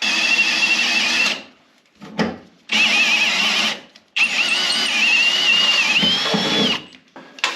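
A power drill fitted with a step drill bit whines in several bursts, its high-pitched motor running for a few seconds at a time with short pauses between.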